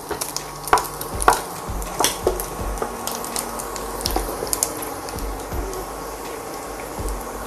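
Bacon and dried chilies stir-frying over low heat, with a soft continuous sizzle and scattered scrapes and taps of a utensil against the pan.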